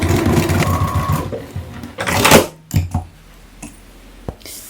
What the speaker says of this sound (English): So I'm just going to add that top stitching across the top of this pocket.